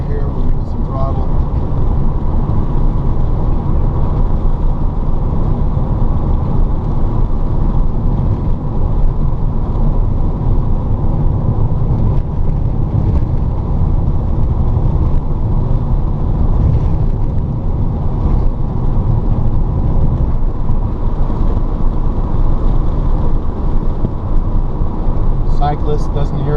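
A DIY electric-converted VW Beetle driving under throttle, heard from inside as a steady, loud, even road and wind rumble with a faint motor whine, continuous throughout with no engine rhythm.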